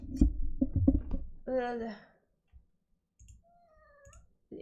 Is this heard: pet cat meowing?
yes